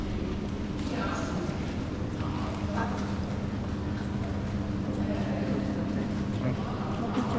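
Horse hooves clip-clopping on a street in Bologna, Italy, a faint rhythmic clatter heard at a distance beneath town background noise and nearby chatter.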